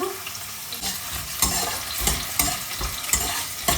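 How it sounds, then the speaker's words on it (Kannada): Chopped onion frying in hot oil for a village-style fish curry gives a steady close sizzle, broken by periodic scraping stir strokes, with no talking. "ಈರುಳ್ಳಿ ಫ್ರೈ ಆಗ್ತಿದೆ"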